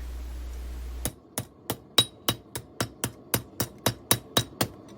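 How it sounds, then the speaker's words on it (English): A hammer strikes a metal workpiece on an anvil while a wall hook is being forged. About fourteen crisp, evenly spaced blows ring out close by after a second of quiet, with no talking. "hammer one side, flip it over, hammer the other side"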